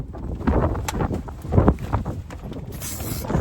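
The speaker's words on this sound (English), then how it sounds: "this wind is insane" Strong wind buffets the microphone in gusty rumbles on open raw land, continuous and loud throughout with uneven surges.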